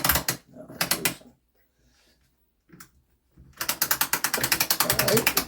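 An Ollie Baker mainspring winder ratchets as it is loosened, with rapid bursts of close, sharp clicks at the start, a short pause, then a long steady run of loud clicking.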